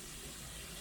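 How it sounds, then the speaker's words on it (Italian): Cascata di Diosilla, a waterfall at Antica Monterano with sulphurous water, as a continuous dense rush of falling water filling the whole short moment with steady broadband noise. "Ecco la cascata della Diosilla."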